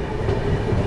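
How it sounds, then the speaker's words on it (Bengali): The Jalpaiguri Road–Sealdah Humsafar inaugural special rolls into Jangipur Road station, a brief loud burst of rumbling wheels and rail clatter with no voices. "জলপাইগুড়ি রোড শিয়ালদহ উদ্বোধনী special train Jangipur road rail স্টেশনে প্রবেশ করছে"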